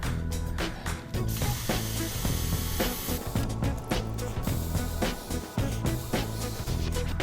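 A cheap glaze sprayer puts green glaze onto ceramics in a series of loud, hissing bursts that start and stop in short irregular pulses, with brief pauses between them.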